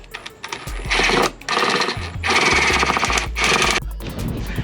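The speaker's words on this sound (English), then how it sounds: "We drilled the hole." A power drill bores a hole through a carbon fiber dash for a Can-Am X3, running in four close, loud, whining bursts separated by brief pauses.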